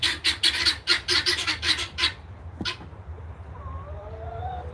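Guinea hens near a chicken coop let out a burst of harsh, pulsing squawks for about two seconds, then one sharp call, followed by quieter distant chirps.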